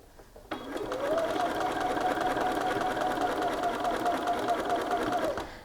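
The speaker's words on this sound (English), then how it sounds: "And then we'll just sew along, removing your pins as you approach." A sewing machine sews a sleeve seam in one continuous run of about five seconds. It starts abruptly and holds a steady, close whirring hum.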